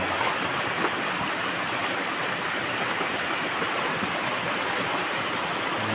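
Water rushes steadily through a main irrigation canal fed from upland, a continuous close broadband flow with no pauses and no voices.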